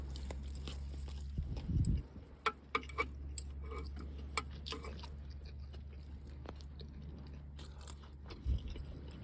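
Grilled beef, seasoned with seasoning salt and pepper, is chewed close up at a rough overnight campsite, with soft irregular crunching and clicking bites over a quiet low hum and a couple of louder thumps.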